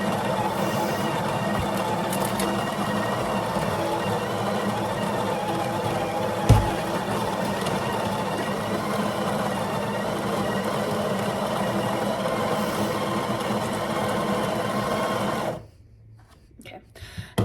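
An office coffee machine runs steadily while making an oat milk latte, a loud, even whirring drone lasting about fifteen seconds with one brief knock partway through, then cutting out abruptly near the end.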